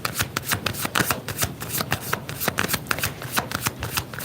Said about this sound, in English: Let me get one more card, please.